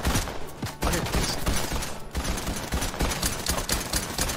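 Dense, continuous automatic gunfire in Fortnite, loud and close, with rapid overlapping shots and a brief pause midway, the rattling barrage filling the whole stretch.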